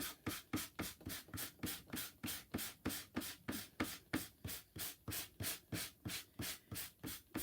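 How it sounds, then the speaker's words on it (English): Sandpaper rubs back and forth over a chalk-painted wooden door sign in a steady, even rhythm of about three strokes a second, close and moderately loud with no talking. "I wanted to sand this down a little bit first"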